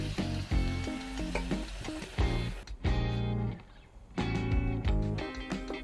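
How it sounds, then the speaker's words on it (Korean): Pork and vegetables sizzle loudly in a pot as ichiban dashi is poured in. The close frying crackle briefly dips in the middle and then returns to full, bubbling sizzle. "고기와 야채들이 잘 어우러져 고기 기름이 야채에 조금 스며들면 이때 이치방 다시를 넣어줄 거예요."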